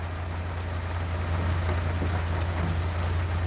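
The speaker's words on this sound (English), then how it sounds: "Well, we got some rain here." Steady rain falls on a vehicle during a tornado warning, a continuous even hiss with a low hum under it and no talk.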